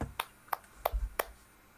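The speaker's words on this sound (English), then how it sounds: "I'm clapping." Four sharp, separate hand claps at an even pace, crisp and close against a quiet background, with a soft low thump between the third and fourth.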